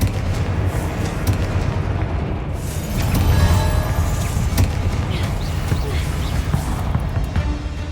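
Booming blast from the Confringo fire spell in a Hogwarts Slytherin video game, a loud explosive burst with rumbling low end over steady game noise, with speech-like sounds mixed in.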